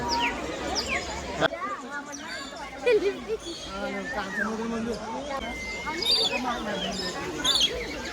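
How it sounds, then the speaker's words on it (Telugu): Birds chirp at Kothwalguda Eco Park in Hyderabad, with scattered high tweets and calls rising over steady crowd chatter and nearby voices, growing more frequent toward the end. "ఆ బర్డ్ సౌండ్స్ అయితే ఎంత క్రేజీ ఉన్నాయి."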